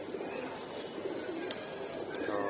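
Pigeons bathing in water at a rooftop loft give soft, low coos under faint steady background noise, quiet and a little distant.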